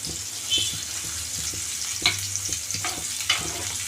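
Oil frying and stirring in a hot pot for a gongura and dried prawn curry tempering, a steady sizzle with sharper spatula scrapes at intervals, close and alone.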